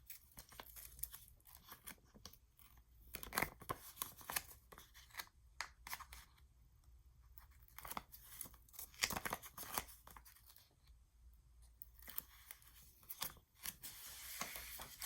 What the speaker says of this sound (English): I've taken my tape off